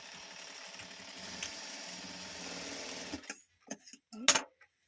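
A normal household sewing machine runs steadily, stitching zigzag along a folded fabric edge, then stops, leaving a few short clicks and handling knocks. A voice speaks over it.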